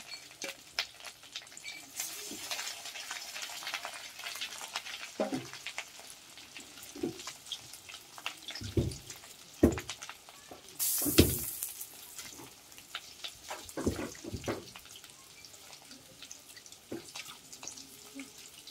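Fish roe fritters, made with onion, chilli and turmeric, fry in hot oil with a steady crackling sizzle and bursts of popping and spattering, close by and with no talking.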